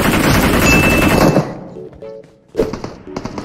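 Loud sustained automatic gunfire from a BGMI mobile battle royale match fills the first half, then fades into quieter game noise and a few later bursts.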